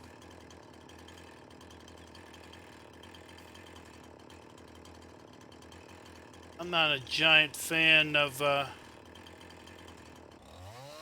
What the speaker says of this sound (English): I really do not like the way these chainsaws move now.